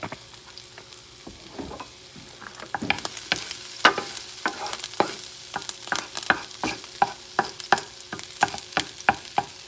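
Chicken cauliflower fried rice is stir-fried in a pan under a steady low sizzle, with a spatula scraping and tapping in a brisk, regular rhythm, close and clear.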